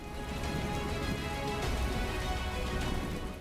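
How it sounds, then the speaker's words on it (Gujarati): Heavy monsoon downpour in the Talala area of Gir Somnath, Gujarat, a dense, steady hiss of rain drumming on surfaces, close and constant throughout with no voices. "ગીર સોમનાથ, તાલાલા પંથકમાં ધોધમાર વરસાદ થયો"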